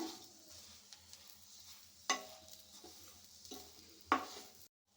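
Stuffed bitter gourd curry simmering in a pan, a soft low sizzle with a few sharp clacks of a spoon against the pan as it is mixed, close and quiet, no talking.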